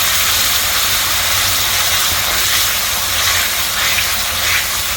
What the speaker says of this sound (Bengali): সরষে, কাঁচামরিচ, পেঁয়াজ পেস্টটা ঢেলে দিলাম।